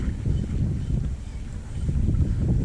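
Wind buffets the microphone outdoors on a boat during freshwater ultralight fishing, a steady low rumble with gusty swells throughout and no voices.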